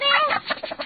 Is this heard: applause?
no